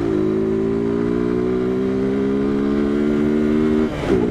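A motorcycle engine drones steadily and loudly at night on a road, with a Honda Bros 160 riding nearby; the tone holds even until the pitch drops briefly near the end as the throttle eases.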